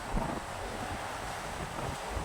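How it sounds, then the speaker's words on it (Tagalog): Wind gusts and big sea waves batter an inter-island vessel out on rough water near an assist tugboat during strong monsoon weather, a constant broad roar with low surging thumps. "Yan, laki ng alon."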